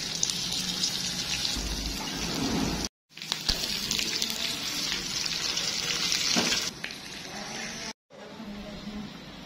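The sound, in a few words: tadka tempering frying in oil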